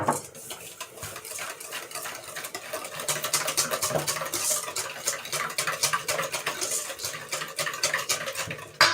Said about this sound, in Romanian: Astea le amestecăm bine, bine.